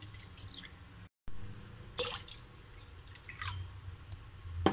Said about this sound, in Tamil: ஒரு பாத்திரம் எடுத்துருக்கோம் அதில் வந்து நம்ம தண்ணி சேர்த்துக்கிறோம்